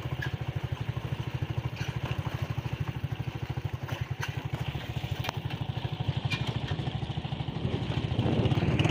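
A motorbike ridden along a bumpy, narrow ranch path, its engine chugging in a steady rapid pulse with rattling clatter, close and continuous, building slightly toward the end.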